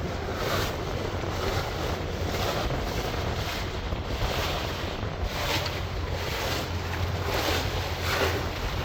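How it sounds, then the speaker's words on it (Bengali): A strong southerly wind roars across a boat at sea under cloudy skies, a constant loud rush with buffeting gusts and broad noise of wind and water. "আজকের আবহাওয়াটা হচ্ছে দক্ষিণা বাতাস"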